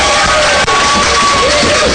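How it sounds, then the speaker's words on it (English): An open mic audience at an arts club roars with sustained cheering, whoops and clapping, a loud dense crowd wash that fills the whole moment. "Give yourself and the performers a huge round of applause."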